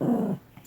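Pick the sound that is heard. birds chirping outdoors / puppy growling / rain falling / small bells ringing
puppy growling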